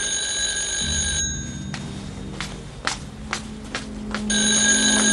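A telephone rings in a 1984 Italian crime drama episode, its bell tones bursting loudly at the start and end, with footsteps and quieter room noise in the gap between rings.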